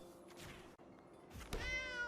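A cat token in MTG Arena lets out a short, clear digital meow, a single bright mewing cry over a quiet game-interface hum, with a soft thunk just before it.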